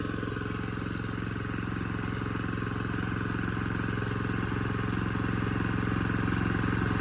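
An engine idles steadily while warming up before a snowy night, a close continuous rhythmic mechanical hum with a faint clatter that stays even throughout.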